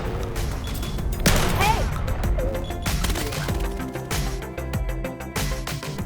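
Rapid gunfire from a free VR shooter video game, with bursts of shots, cracks and impacts layered over game music and effects, loud and close, under a voice talking.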